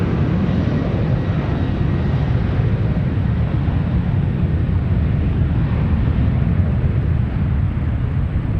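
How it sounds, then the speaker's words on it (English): A United Boeing 737-800 airliner passes overhead near San Francisco, a loud continuous jet roar with broadband rumble that holds steady throughout, no voices. "There goes the 737 United."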